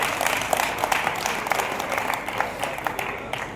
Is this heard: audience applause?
yes